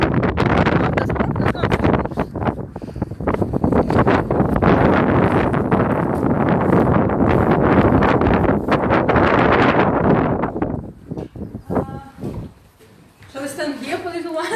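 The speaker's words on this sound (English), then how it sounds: "because it's too windy" Strong wind buffets the microphone in a loud, continuous roar that drops off near the end, where faint voices come through.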